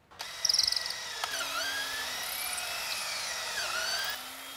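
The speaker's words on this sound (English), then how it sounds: "The 3 mounting holes will be drilled with the 3/16 drill bit." A power drill with a 3/16-inch bit whines steadily at high pitch, its tone dipping as the bit bites in while drilling trim tab mounting holes on a boat, after a short burst of rattling at the start.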